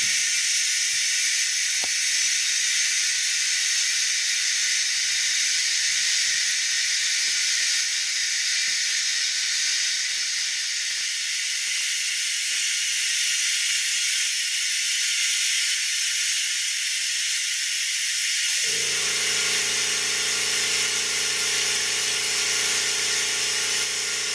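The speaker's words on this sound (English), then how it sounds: "I open this up and the oil should start flowing. There it comes." Steady broadband hiss of engine oil draining from a 2020 Land Rover Defender P400 petrol engine, continuous and loud throughout, with a lower hum joining near the end.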